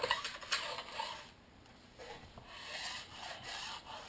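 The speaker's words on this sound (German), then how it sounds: "legt die Feile an und dann geht ihr einfach" A metal file scrapes along the steel edge of a freeride ski in steady back-and-forth strokes, a close, dry rasping with slight pauses between passes.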